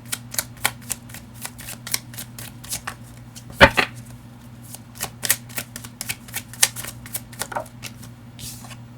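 Tarot cards handled and shuffled from a deck, producing a run of crisp riffling flicks and taps over a low steady hum, with one sharper snap midway and no talk.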